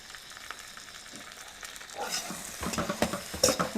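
Noodles being stirred in a pan with pepper powder, chilli sauce and soy sauce for a home-cooked street-food dish, a soft clatter and light sizzle that grows louder and busier toward the end, with no talk.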